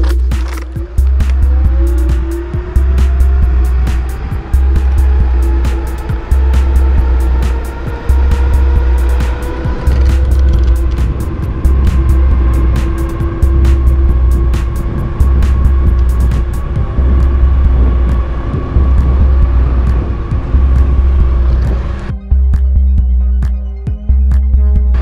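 A Macury Speedual Mini (Zero 8X) 52V electric scooter is ridden hard, its motor whine rising in pitch and holding steady under a rhythmic repeated thump from the ground, then cutting off near the end.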